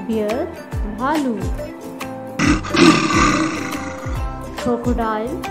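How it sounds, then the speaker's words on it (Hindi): A bear gives one deep, rough roar lasting over a second, loud and close, over a rhythmic children's nursery-rhyme backing track. "Bear, भालू."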